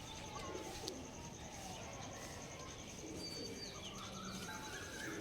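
Pigeons coo softly and repeatedly at close range during a pigeon sale, with faint chirps and a steady background hiss; no voices stand out.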